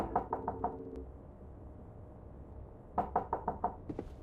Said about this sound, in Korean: 애들이 왜 노크만 하고 말을 안 하지?